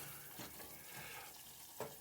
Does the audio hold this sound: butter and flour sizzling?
yes